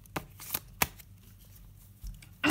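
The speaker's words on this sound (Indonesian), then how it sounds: "Aku ngambil kartunya dikit aja karena emang aku pingin tahu pesannya gitu." Tarot cards being shuffled in a quiet room, a few crisp separate riffles and snaps spaced apart, with a louder burst of shuffling at the end.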